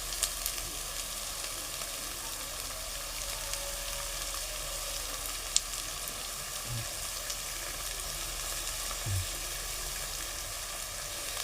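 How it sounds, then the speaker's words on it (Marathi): Garlic paste hits hot oil with the frying pav bhaji vegetables, giving a steady, soft sizzle throughout, with a couple of faint clinks of a utensil against the pan. "त्याच्या जोडीला मी आता लसूण पेस्ट टाकतो"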